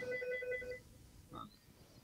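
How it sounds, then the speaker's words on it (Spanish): A telephone rings in a lecture hall during a physics talk, a repeated electronic ring for under a second, moderately loud, followed by a brief softer sound; no speech. "hay un teléfono que me está molestando."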